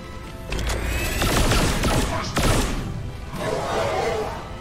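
A fusillade of gunfire in XCOM 2: War of the Chosen, several loud sharp shots and impacts that blur into one rolling, sustained crash and fade out near the end.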